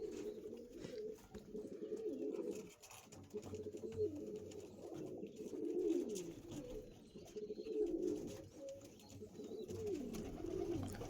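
Mangalagiri Lalsira pigeons coo continuously in low, rolling, overlapping calls, close and fairly soft, with occasional light rustling and ambient noise.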